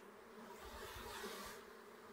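Steady, dense buzzing of honeybees at an open beehive during a hive inspection, heard close and continuous, with faint low knocks underneath.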